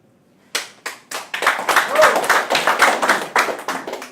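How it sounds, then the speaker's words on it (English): A seminar audience claps in a loose, uneven burst of hand claps that builds after a quiet start and stays lively, with a voice heard over it. "Are you giving the clap for this guy or for the industry?"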